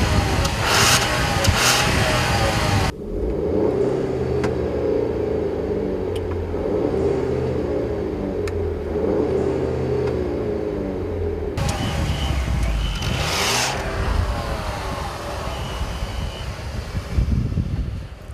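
A Volkswagen CC accelerates hard at highway speed, its engine drone and road rumble heard from inside the cabin, with louder bursts of wind and road noise at the start and end of the run.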